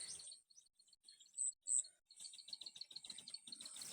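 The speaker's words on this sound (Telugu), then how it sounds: "ఇలా బర్డ్స్ వస్తున్నాయి, బర్డ్స్ స్టార్ట్ అయ్యాయి." Birds chirping in a crop plantation in Pocharam, Nizamabad, Telangana: a few sparse high chirps early, then a denser run of repeated bright tweets filling the second half, fairly close, with no voices.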